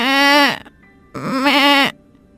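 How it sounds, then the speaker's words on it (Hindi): A sick goat bleats loudly twice, two long wavering cries close by with a short gap between them. "उसकी बीमार बकरी मुंह घुमाकर जोर जोर से मिमियाने लगती है"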